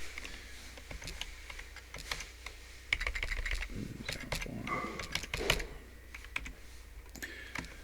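Keys clatter on a computer keyboard as a student ID is typed, a quick run of light, close clicks at an uneven pace with a faint murmur of background sound.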